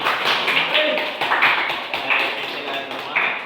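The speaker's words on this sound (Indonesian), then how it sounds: "Tepuk tangan lagi." Classroom of eleventh-grade students clapping, an uneven patter of hand claps rising and falling in small bursts, with voices talking over it.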